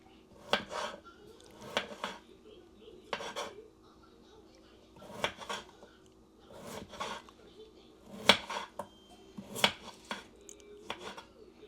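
Brand-new kitchen knives slicing through steak on a cutting board, a series of short rasping cuts and taps in irregular bursts, close and fairly quiet, with someone talking between strokes.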